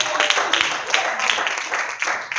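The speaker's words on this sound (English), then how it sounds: "Clap your hands for yourself." A church congregation claps hands together, a steady layered patter of many palms filling the room while a preacher's voice carries over it.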